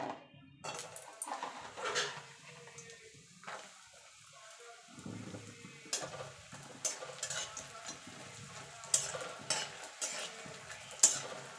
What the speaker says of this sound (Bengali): বড়িগুলোকে আগে ভেজে নেব।